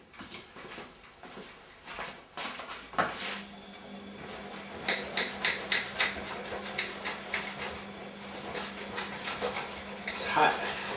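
Knife and fork working through a sausage and ham calzone on a plate, giving a series of sharp scraping and tapping clinks of metal on crockery, close and fairly loud, with a steady low hum behind.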